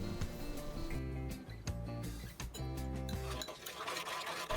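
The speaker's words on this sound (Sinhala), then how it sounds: "දැන් සීනි ටික හොඳින් දිය වෙනකම් මේ විදිහට මිශ්‍ර කරලා ලිපෙන් ඉවත් කරගමු." A spoon stirs sugar into a mixture in a pot, giving soft repeated scraping and clinking of utensil against metal, close and quiet.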